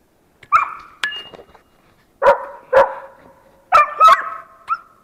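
Laika hunting dogs bark in sharp, loud bursts during a marten hunt outdoors, a few isolated barks followed by a run of several in quick succession with short gaps between.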